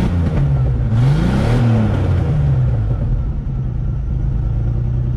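Turbocharged 2.9 GMC pickup truck engine running loud and steady with a rising then falling revving tone, the RPMs sagging as it settles into a constant rumble.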